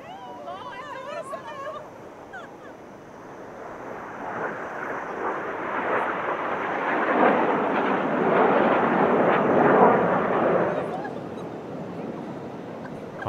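Frecce Tricolori aerobatic team jets roar past at the Dubai Airshow, a broad engine rumble that swells over several seconds, peaks loud near the middle and slowly fades, with brief voices early on.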